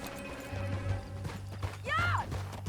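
Horse hooves clip-clopping in the Western video game Red Dead, steady galloping beats under a low engine-like drone, with a horse's whinny rising briefly near the end.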